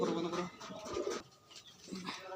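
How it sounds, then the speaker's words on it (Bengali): Tumbler pigeons coo in soft, low, throaty bursts that repeat close by, with brief quieter gaps between calls and faint human voices in the background. "এগুলো সব নিচে বাজির পায়রা, এগুলো সব।"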